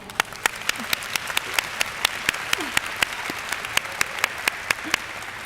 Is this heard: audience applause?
yes